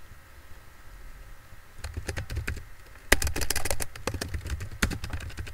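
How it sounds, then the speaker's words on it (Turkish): A quiz question is typed on a computer keyboard, with quiet irregular key clicks starting sparse and then becoming a faster, denser run of close taps. "Ben şimdi bir soru yazayım."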